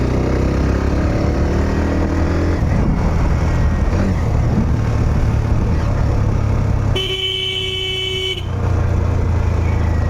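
Road traffic roars steadily up close, a Hero Xtreme 125R motorcycle engine running continuously, with a car horn sounding for about a second and a half partway through.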